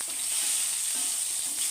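Urad dal and mustard seeds frying in hot oil for a tomato chutney, giving a dense, steady, bright sizzle that stays close and even over a short stretch with no voices.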